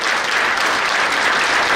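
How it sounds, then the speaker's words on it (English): A crowd at a farewell event for the Consul General of New York gives a round of applause, a steady, dense wash of clapping that stays loud and even for the whole stretch with no voices on top. "Big round of applause for what Sir has done."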